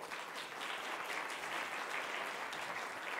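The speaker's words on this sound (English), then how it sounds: "Big round of applause for everybody" A quiet, steady wash of audience applause at a conference welcome session continues evenly throughout, with no speech over it.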